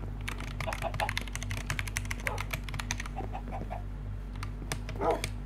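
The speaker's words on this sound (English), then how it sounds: "Why is my keyboard so dead?" Rapid, close clatter of keys on a computer keyboard, steady bursts of typing across several seconds over a low hum, with a dog faintly barking now and then.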